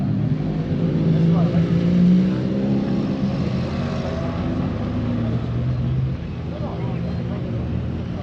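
Steady engine drone of motorcycles pulling away at a cars and coffee meet in Jedburgh, Scottish Borders, a continuous low rumble with shifting pitch and a busy outdoor wash, no clear speech over it.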